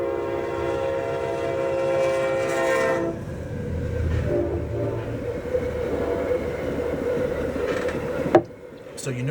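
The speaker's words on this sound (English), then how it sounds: "Here comes a very short train." A short train goes past close by, its horn sounding with strong steady tones for the first few seconds, then rumbling wheels and cars roll through, ending in a sharp clank before fading.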